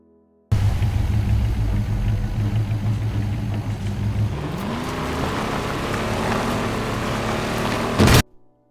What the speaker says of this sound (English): we race a Warthog and a Scorpion tank